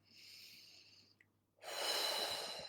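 One person takes a slow, deep breath in a quiet room, a soft airy inhale followed by a pause and then a louder, longer rush of breath out, close to the listener.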